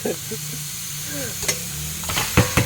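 Fresh, still-live headless fish sizzling on a grill, a steady crackling hiss with a few sharp pops and scrapes near the end, close and moderately loud.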